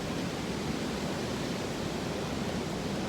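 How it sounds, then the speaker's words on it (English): Steady, broad rushing wind noise outdoors during a small game hunt, constant and fairly loud throughout, with no other sounds standing out. "You can hear that wind."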